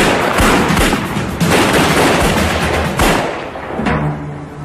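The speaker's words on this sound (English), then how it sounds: "There's an exchange of gunshots." Gunfire rings out during a bank robbery reenactment, with a rapid barrage of loud, overlapping gunshots and booms that keep going almost without a pause, then ease off at the end.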